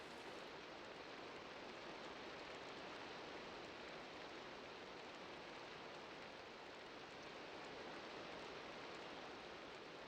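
Rain falling in the video game Minecraft, a soft, even hiss of steady downpour that holds without change from start to finish, quiet and with no speech over it.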